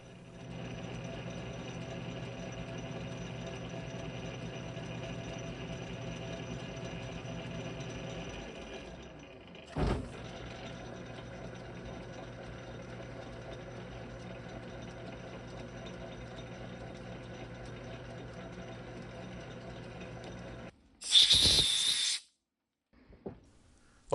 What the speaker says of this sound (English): Put the lathe here in back gear, and we'll go ahead and power tap this.